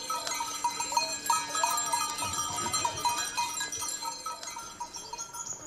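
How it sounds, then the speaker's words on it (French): A herd of goats in the Alps in early summer, with bleats and cowbell clinks scattered over a steady outdoor background, some calls close and others farther off, no talking. "Avec ses chèvres, Sylvain part sauvegarder la montagne et l'un de ses trésors."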